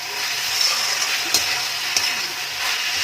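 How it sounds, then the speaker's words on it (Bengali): Soya chunk chowmein stir-fried in a pan, a steady bright sizzle with occasional scraping clicks from stirring, loud and continuous. "এই স্টেজে আমি ভাজা করা সয়াবিনটা দিয়ে দিচ্ছি, যাতে এর মধ্যে ফ্লেভারগুলো ভালো মতো যাবে।"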